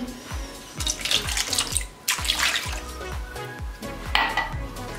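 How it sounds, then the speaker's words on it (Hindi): Half a cup of water is poured into a pan holding sweet potatoes, making a close, splashing gurgle that runs for several seconds over a few faint knocks of the pan. "आधा कप इसमें पानी डाल देंगे"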